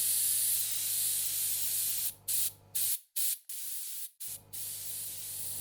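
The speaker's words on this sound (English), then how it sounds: "I then gave it a good old blast with compressed air to blow out any remaining dust" Compressed air blasts dust off the centrifugal switch of a Metropolitan-Vickers electric motor, a loud, close hiss that runs steadily and then cuts in and out in several short bursts with brief gaps of quiet.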